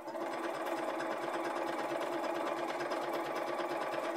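A sewing machine stitches steadily without pause, its fast even whirring and needle clatter loud and close throughout, with no talking.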